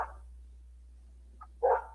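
A dog gives a brief bark near the start, then two more short barks toward the end, faint to moderate over a constant low hum, with no speech.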